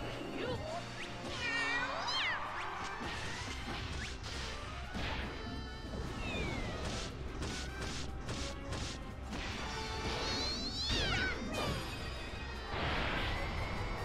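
Cat Umbrella Spin attack in the video game Disgaea D2: repeated cartoon cat meows and yowls mixed with whooshes, whacks and crashing impact effects, layered over background game music.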